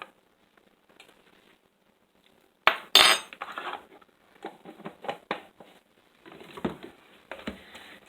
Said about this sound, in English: And we're just going to mix that in.